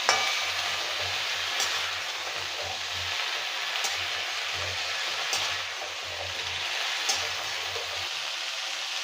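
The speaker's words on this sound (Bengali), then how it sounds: "এবার এটা ভেজে নিয়েছি হালকা করে সবজিগুলো" Leafy greens and stalks with radish fry in hot oil, a continuous crackling sizzle with low stirring rumbles and a few sharp clicks at intervals, close and steady throughout with no voices.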